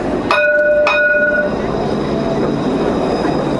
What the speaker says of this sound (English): I like to think he dinged that bell just for me